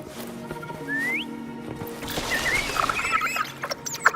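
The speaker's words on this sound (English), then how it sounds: "Try whistling." Whistling in the video game Wuthering Waves: a short rising whistle, then a few fainter warbling tones, set against quiet ambient game sounds and small clicks.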